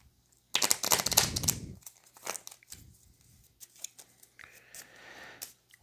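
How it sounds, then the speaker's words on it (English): Arkham Horror LCG cards are shuffled back into a deck at a tabletop, giving a loud burst of riffling card noise followed by softer scattered card handling and shuffling sounds. "And it gets shuffled back into my deck."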